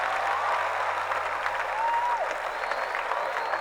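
A live audience at a Caribbean stand-up comedy show breaks into steady, dense applause. The clapping fills the whole stretch evenly, with a few faint voices underneath.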